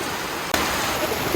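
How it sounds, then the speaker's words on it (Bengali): Heavy rain pours outdoors around a village yard, a dense, even hiss with one brief thump partway through. "দেখেন কি পরিমাণ বৃষ্টি সব ভিজে গেছে"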